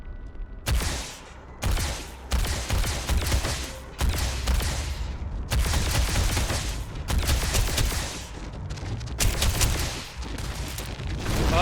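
Electromagnetic weapons fire in Starfield in sustained, loud bursts of gunfire-like blasts, several volleys separated by brief gaps across the whole stretch, with no talking.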